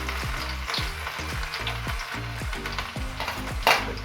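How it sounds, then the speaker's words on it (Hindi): Garlic frying in hot oil for besan curry, a faint steady sizzle under a rhythmic low tapping of stirring, with a brief metallic clink near the end and no talk. "तो अब हम इसमें सबसे पहले लहसुन ऐड करते हैं।"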